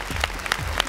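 An audience at a televised singing competition gala show claps in a steady, dense burst of applause, loud and close.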